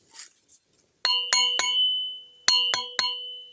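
A very narrow metal chisel struck in a series of bright ringing clinks, three close together then three more after a pause, each leaving a sustained metallic tone that lingers; a brief soft voice precedes the strikes.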